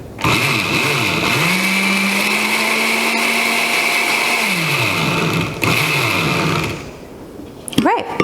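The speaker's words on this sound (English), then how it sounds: "And we'll just blend that up a few more times." A blender whirs loudly through a protein powder mixture, its motor note rising and holding, then dropping away after several seconds, with a short gap and a brief restart near the end.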